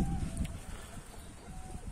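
Domestic fowl kept by a game-bird breeder call softly in a yard, low coos and clucks scattered over a steady outdoor background.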